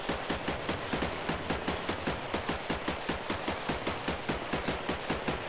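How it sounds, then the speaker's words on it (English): Rapid, evenly spaced gunshots from a WarField 3 Minecraft mod weapon repeat in a steady automatic rhythm, loud and close, with no talking. "you'll notice that obviously all the guns have different sounds and with silencers"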